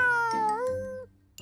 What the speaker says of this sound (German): Ich miau wie die anderen Kätzchen.